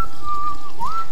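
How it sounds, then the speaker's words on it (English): A character in the video game The Ship whistles a short, clear tune: a held note that dips, then a brief rising phrase, loud and close. "I love how he whistles."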